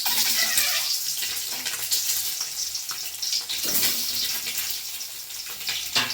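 Eggs dropped into hot oil in a kadai for a mint curry sizzle and hiss steadily and fairly loudly, a dense crackling wash with brief surges of spattering and no talking.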